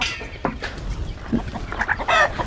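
A native hen with golden plumage and black legs clucks close by in short, irregular bursts, with faint farmyard noise around it.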